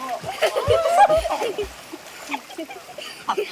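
Water in a canal splashes and sloshes in uneven bursts close by as a non-swimmer tries to swim, mixed with a person's voice talking and exclaiming over the splashing.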